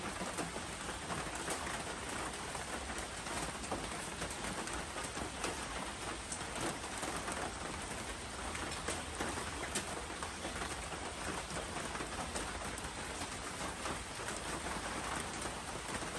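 Steady rain pours down with a dense, even hiss, continuous throughout with no voices.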